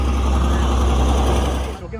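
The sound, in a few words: tractor passing in a field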